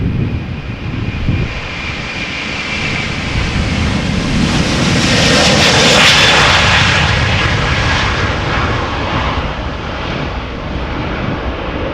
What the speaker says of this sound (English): So the A380 is getting closer by.